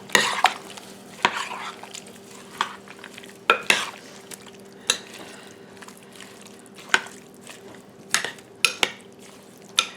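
Rabbit jambalaya ingredients with Conecuh sausage are stirred in a pot, the spoon scraping and clinking against the sides in irregular, close taps over a faint low hum.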